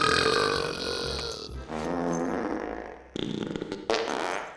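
Characters burping in the animated film Jimmy Neutron: Boy Genius, long, loud, rumbling belches following one another across the clip, the last few short and choppy.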